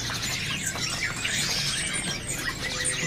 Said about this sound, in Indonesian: Di kios ini ada burung perkutut Bangkok ya.